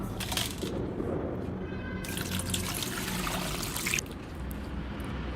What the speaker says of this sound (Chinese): 萝卜和梨加盐，给它搓洗一遍。